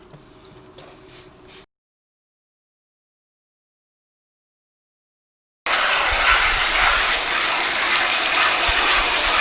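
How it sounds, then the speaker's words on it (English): Water rinsing hot tub filters clean, a strong, steady gushing spray that starts after a silent gap and continues loud to the end, following a brief faint stretch at the start. "I've rinsed them really thoroughly, so it's clear water coming out of them now, no foaming."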